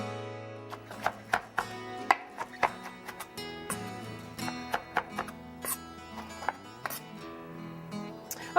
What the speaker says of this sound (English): I'm just going to loosely chop these mushrooms up because they're going to go into our dish too